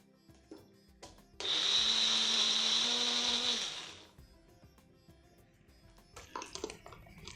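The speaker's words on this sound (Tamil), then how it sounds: "இதில் ஒரு ஹாஃபை இப்போ நான் அரைச்சி விடுறேன்." A kitchen mixer grinder whirs loudly for about three seconds as it grinds jackfruit pulp into a fine paste, starting abruptly and winding down, with softer kitchen clatter around it.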